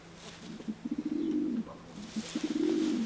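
A young racing pigeon coos in two short bursts, each a run of soft throaty pulses swelling into a longer rolling coo, close and clear with no talk.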